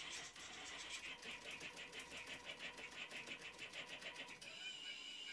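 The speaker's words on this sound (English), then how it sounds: "With sending the start command, the machine begins to plot the file." A homemade CNC machine built from DIY materials plots a vector pattern of concentric circles and straight lines, giving a steady, close mechanical whirring with rapid rhythmic stepper pulses that changes pitch near the end.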